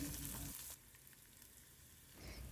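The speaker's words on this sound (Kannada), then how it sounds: "ಒಂದು ಮೀಡಿಯಮ್ ಸೈಜಿನ ಈರುಳ್ಳಿನ ಸಣ್ಣದಾಗಿ ಕಟ್ ಮಾಡಿದ್ದೀನಿ ಅದನ್ನು ಹಾಕಿ ಸ್ವಲ್ಪ ಹೊತ್ತು ಬಾಡಿಸ್ತೀನಿ" Finely chopped medium onion sautéing in oil after mustard seeds and cumin have spluttered, a loud sizzle at first that drops to a steady softer frying hiss before swelling again near the end.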